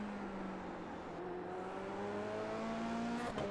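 F3 race car engine at Imola in iRacing, a steady buzzing drone that climbs gradually in pitch as the car accelerates, with a brief blip near the end, loud and continuous.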